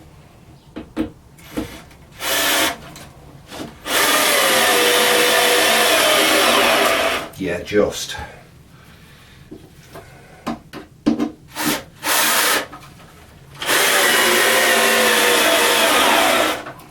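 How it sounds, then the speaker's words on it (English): A battery drill drives big screws into scrap wood while building a saw stand: two long, loud whirring runs several seconds each, separated by short clicks, knocks and a brief spoken voice. "hopefully we've got enough battery left in the battery drill to actually put these on"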